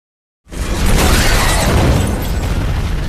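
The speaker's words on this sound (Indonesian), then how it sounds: "Kemudian Stephen menembak mobil itu hingga meledak." A car explosion in a film: a sudden loud blast erupts after a short silence as the car's leaking fuel ignites, then a sustained roaring, crackling blast rumbles on without fading.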